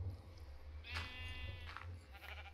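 Minecraft sheep bleat a couple of times, a quavering baa-like call that is faint under steady low game background noise, with a softer bleat following.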